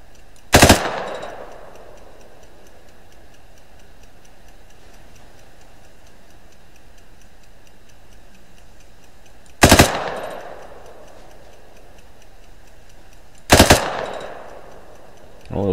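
Gunfire in the video game Arma 3 Apex: three sharp, loud shots spaced far apart, each with a short decaying tail over a faint, steady background hum.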